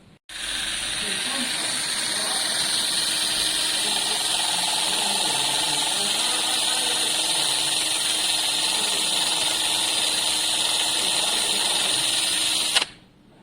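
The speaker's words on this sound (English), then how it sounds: "Let me just see if I've got a functional angle grinder, and we'll see how these polishing pads work." An angle grinder fitted with a polishing pad runs steadily for several seconds with a loud, even high-pitched whine, then cuts off abruptly near the end.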